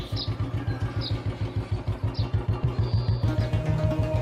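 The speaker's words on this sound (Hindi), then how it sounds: "अब गुरुजी इसकी मोटरसाइकिल ले जा रहे हैं।" A motorcycle engine chugging in a fast, even rhythm close by, a steady pulsing exhaust beat as the bike is ridden away, with faint chirps in the background.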